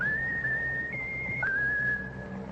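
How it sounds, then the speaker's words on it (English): A bird whistles a sustained tune on a radio comedy show, a clear steady tone that shifts pitch a few times with short breaks, heard alone without talk. "Now, Raffles, that's a very bright bird. Whistle your favorite tune."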